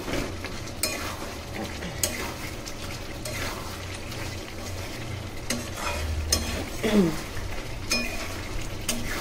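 Garam masala powder being stirred into chicken kosha frying in a pan, with a steady close sizzle and intermittent scrapes and clinks of a spatula against the pot.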